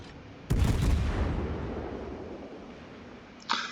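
Naval gunfire from an Anchorage cruiser in World of Warships: a heavy, close cannon blast opens with a deep rumbling roar that slowly fades, then a second sharp shot cracks near the end.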